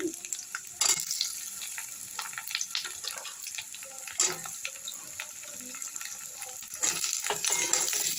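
Potatoes fry in a pan with onions, a soft, steady sizzle with intermittent scrapes and clatters of stirring, fairly quiet and close, no voices.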